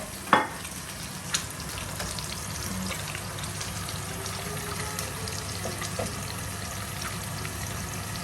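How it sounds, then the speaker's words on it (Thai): Seafood and holy basil stir-frying in a hot pan, a steady close sizzle with a couple of sharp clinks of a utensil early on and no talking. "ผัดก่อนนิดนึงเดี๋ยวเติมน้ำก่อนค่ะเพราะว่ามันแห้งๆไป"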